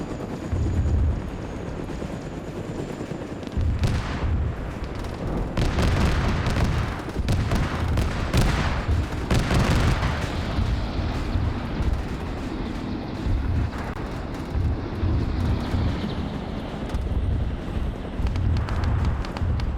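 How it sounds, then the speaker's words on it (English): Tail-mounted autocannons on a helicopter in a video game fire in repeated loud bursts of rapid booming shots over a steady roar of battle noise, with no talking. "You hear the autocannons on the tail firing as well."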